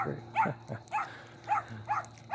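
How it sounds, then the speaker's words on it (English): A dog yaps repeatedly in a quick rhythm of short, sharp barks, about four bursts over two seconds, fairly close and moderately loud. "I'm gonna have a dog freaking yapping on the video"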